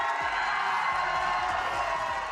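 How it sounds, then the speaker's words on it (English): A large esports arena crowd at a VCT Americas Valorant match between MIBR and 100 Thieves cheers for player Cortesia after the match, a steady roar of whoops and applause filling the hall without pause. "Cheer for him! Cheer for him!"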